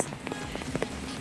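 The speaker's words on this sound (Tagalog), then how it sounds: "Malakas ang ulan." Rain patters and splashes on surfaces in the UK, a brief, close burst of scattered drops and spatters.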